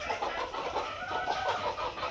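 Village hens in a low-cost shed cluck in a busy, continuous chatter, moderately quiet and close, with overlapping calls throughout.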